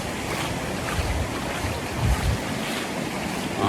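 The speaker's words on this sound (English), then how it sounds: "by listening and just watching these waves. The waves just move." Ocean waves roll and break against the shore in a steady, broad wash of surf, with low swells surging now and then under constant wind noise on the microphone; no voices.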